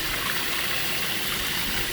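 Water runs down a repaired, previously leaky artificial rock waterfall in a steady, dense rushing hiss, continuous and fairly close, with no voices.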